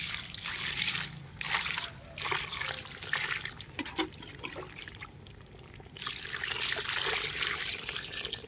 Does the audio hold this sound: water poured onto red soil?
yes